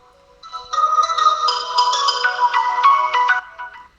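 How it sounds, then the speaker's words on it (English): Bright electronic melody played through a phone, a tinny chiming tune of quick repeated notes, loud and close with no talking. "That would be the music coming through the phone."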